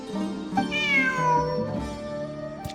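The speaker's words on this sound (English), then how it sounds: "Who's a good kitty?" A cat meows in Genshin Impact, one long drawn-out, rising and falling meow near and loud, with no talk.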